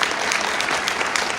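Dense, steady audience applause for a leadership conference panel, a brief burst of many hands clapping at once.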